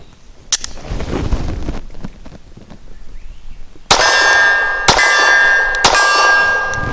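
Three sharp, loud gunshots from a short-barreled Steyr S9-A1 pistol firing 124 grain suppressor ammunition ring out about a second apart, each leaving a bright metallic ringing tail, after a quieter stretch of handling noise.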